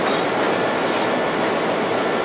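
A BNSF SD40-2 diesel locomotive runs in a train simulator, giving a steady, loud engine and rail rumble with a faint rhythmic clatter and no pauses.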